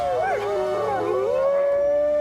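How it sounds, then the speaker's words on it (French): A wolf howls in a long, loud, rising and falling tone. Overlapping gliding voices suggest more than one wolf joining in, with no talk over it. "Qui n'a pas vu des images de loups hurler à la lune?"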